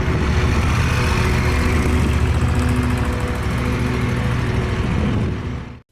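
A Moto Guzzi Eldorado 1400 motorcycle engine runs loud and close with a steady throbbing drone, easing slightly before it cuts out abruptly at the end.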